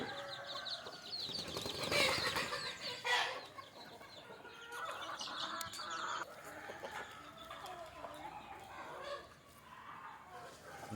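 Free-range country chickens cluck and squawk repeatedly as their coop is opened, several birds calling over one another at close range, with a rooster-like call mixed in.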